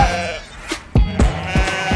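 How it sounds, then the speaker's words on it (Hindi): A goat bleats indoors, a close, wavering cry followed by a few short, abrupt knocks and thumps nearby. "क्या ये बकरी क्यों अंदर आ गई?"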